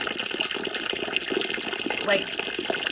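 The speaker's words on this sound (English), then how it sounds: "And I just fill this up until it's covered." Water pouring from a tap or hose into a bucket of chicken feed in a coop, a steady, fairly loud gushing and splashing with a rising filling tone, while a person talks over it.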